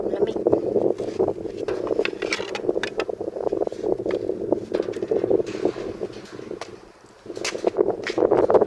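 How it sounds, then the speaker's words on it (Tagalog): Gusty wind buffets the microphone in rough, uneven bursts, with people talking underneath and a brief lull before the gusts pick up again. "Malakas ang hangin dito."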